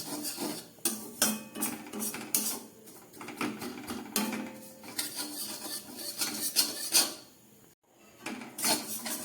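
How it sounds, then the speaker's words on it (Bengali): Cashews, raisins and semolina being lightly fried and stirred in a pan, with repeated scraping and metallic clinks of a spoon against the pan in an uneven rhythm. "একদম হালকা করে ভেজে নিচ্ছি কাজু, কিশমিশ আর সুজি।"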